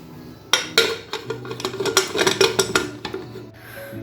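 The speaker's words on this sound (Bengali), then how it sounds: "এরপর আমি প্রেসার কুকারের ঢাকনা বন্ধ করে দিয়ে মটরশুঁটিগুলো খুব ভালোভাবে সেদ্ধ করে নেব" Metal clatter of a pressure cooker lid being fitted and closed over peas in a kitchen: a quick run of sharp clanks and scrapes for a few seconds, close and fairly loud, then quiet.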